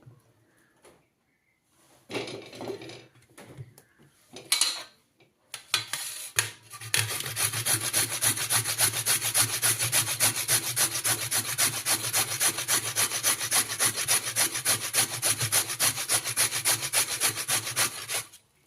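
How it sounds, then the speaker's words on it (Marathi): Carrots, washed with their ends trimmed, are grated one by one on a hand grater: a few scattered scrapes at first, then a long, steady, close rasping run without pause. "याच्यामधले मी एक एक गाजर खिसून घेते"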